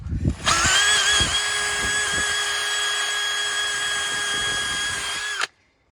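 A power tool cleans the wheel hub surface of a Vauxhall Corsa D VXR during a brake disc and pad change, a loud, steady high-pitched whine held for about five seconds with a few faint knocks underneath, then stopping abruptly.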